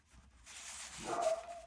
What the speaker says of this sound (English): She's barking at the neighbor's dog.